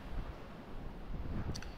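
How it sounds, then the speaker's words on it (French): Strong sea wind roars steadily across the open coastline at the end of Cap Morgiou promontory in the Calanques, a dense gusty rush with a low rumble throughout, no voices. "Vent marin, fort."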